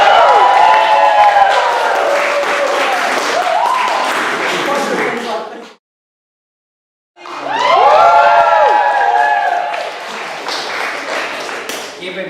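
Studio audience at a late-night comedy show clapping and cheering loudly in two bursts with a short silent break between, whoops and shouts over dense applause, with voices mixed in.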